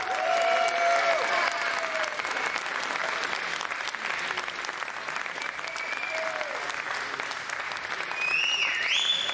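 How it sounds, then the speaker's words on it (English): A crowd at the 2021 World Pool Championship final breaks into sustained applause, thick and steady throughout, with a few voices and whistle-like cheers rising above the clapping. "ladies and gentlemen, round of applause"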